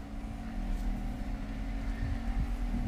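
An electric-converted BMW E65 7 Series drives along, with a steady close drone of motor whine and road noise, hum tones holding level throughout and no talk.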